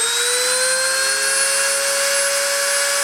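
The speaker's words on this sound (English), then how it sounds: "I'm going to turn the spindle on and start the deposition" Machine spindle running at steady speed for metal deposition, a loud continuous whine with sustained tonal pitches over a smooth broadband hum, constant throughout.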